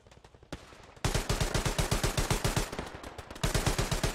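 Machine gun fire in the World War II shooter Hell Let Loose: a few scattered shots, then loud, rapid, evenly spaced bursts rattle on without a break, nearby and dominant.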